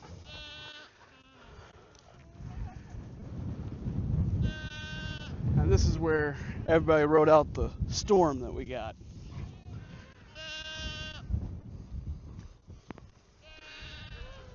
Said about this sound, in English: we ended up moving all the goats and put them in with the sheep.